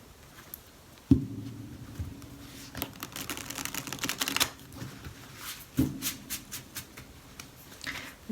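Tarot cards shuffled by hand, with two sharp riffles followed by soft rapid flicking and pattering of cards, close and alone.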